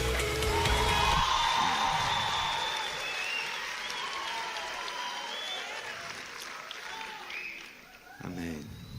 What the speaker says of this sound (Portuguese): Recebam com uma salva de palmas, Jonas Madureira.